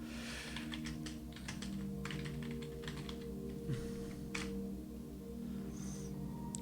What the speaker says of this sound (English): I'm just going to type it in right now